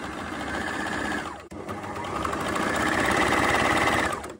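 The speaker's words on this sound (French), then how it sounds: "Maintenant je vais coudre les basques." A sewing machine stitches the peplums onto a garment, running in a steady continuous whir with a brief pause midway before picking up again at an even pace, close and alone.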